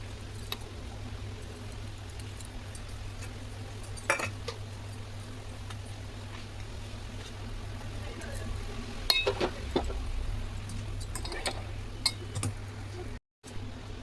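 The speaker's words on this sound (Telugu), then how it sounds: "మధ్య మధ్యలో కలుపుతూ ఉండాలి." Milk cream simmers in a pot while being made into ghee, with soft bubbling under scattered clinks of a spoon stirring against the pot.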